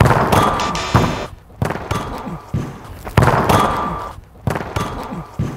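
A football is struck hard in a penalty challenge, with several sharp, loud thumps of kicks and impacts landing in a rhythmic series, each followed by a short decay.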